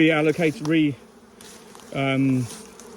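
Honey bees buzz loudly and close around a hive in two bursts of droning, wavering tones with a short near-silent gap between them.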